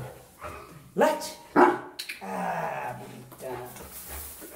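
A dog in clicker training barks on cue, two quick barks close together, with a trainer's voice continuing around them.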